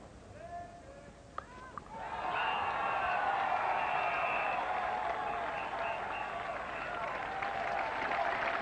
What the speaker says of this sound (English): And the extra applause now for Gordon Greenwich, reaching 50 out of a total of 77.